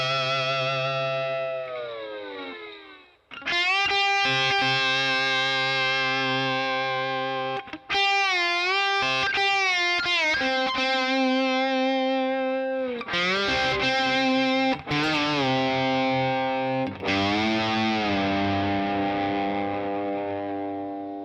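Electric guitar playing the solo from a song with distortion and chorus effects, loud sustained and bending notes in several phrases separated by short gaps, alone with no voices.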